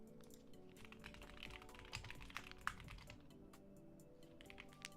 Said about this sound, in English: maybe you guys will get keyboard ASMR